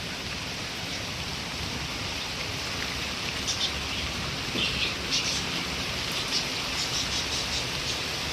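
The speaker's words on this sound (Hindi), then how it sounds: "कितनी मोटी मोटी बारिश पड़ रही है" Steady heavy rain pours down in a dense, even hiss, with a few scattered drips and faint chirps rising above it.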